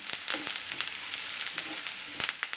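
Curry leaves dropped into onion and green chilli frying in oil for an ivy gourd (kovakka) stir-fry, giving a steady crackling sizzle with a few sharper pops, moderately close and without any talk.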